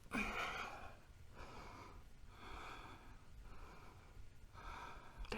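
Slow, deep breaths during a kundalini yoga backbend, with several rhythmic inhales and exhales close to the microphone, fairly soft, and no speech.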